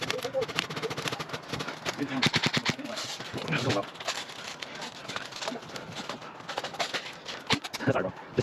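Airsoft gun shots at an outdoor skirmish, a quick burst of sharp snapping shots followed by scattered single pops, some near and some farther off, while players talk over the action.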